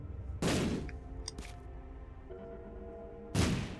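Two bombs explode in The Binding of Isaac, each a loud, sudden boom about three seconds apart, with quieter game tones and clicks between them.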